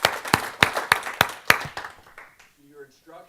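An audience claps in a round of applause for a speaker at a live talk, with loud bursts of clapping that fade after about two seconds, followed by a voice speaking.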